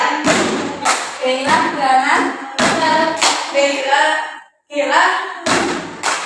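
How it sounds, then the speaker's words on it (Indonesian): Hands slapping a tabletop in a rhythmic classroom clapping routine during a group introduction, loud close thumps in bursts with children's voices talking and chanting between them. "Tepuk di meja saja."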